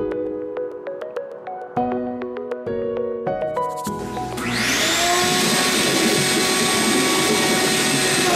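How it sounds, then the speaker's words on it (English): Vacuum cleaner in a fish room switches on after a few light knocks and clicks, its motor rising into a loud, steady, broad roar with a high whine that holds to the end. "So I'm gonna turn the vacuum on."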